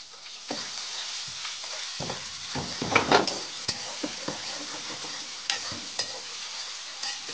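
Garlic paste and green chili fry in a pan with a steady sizzle, broken by repeated scraping and tapping as a spoon stirs the mixture, with a few sharper clinks near the middle.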